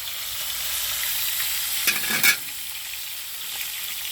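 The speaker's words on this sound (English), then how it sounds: "we got a good little sear going on there" Garlic Cornish hen searing in a cast iron pan outdoors, a steady soft sizzle and fry with a brief louder crackle burst midway, close and alone.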